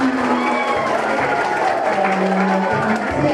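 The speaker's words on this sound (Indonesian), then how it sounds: "tepuk tangan untuk kita semuanya" A school crowd at MTsN 1 Nganjuk applauding steadily, dense clapping filling the room throughout, with a voice faintly audible underneath.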